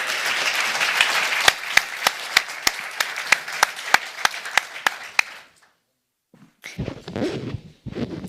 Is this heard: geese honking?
no